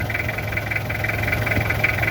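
A car engine idles steadily with no thermostat fitted, giving a continuous low rumble and vibration close by throughout, with no talking.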